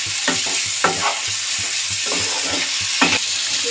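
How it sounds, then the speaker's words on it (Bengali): Fried potatoes being stir-fried with spice paste in a pan, with a steady broad sizzle under repeated scraping strokes of a spoon against the pan at an irregular rhythm, close and fairly loud, and no talk. "আলুটা দিয়ে মশলাটা একটু কষিয়ে নেব"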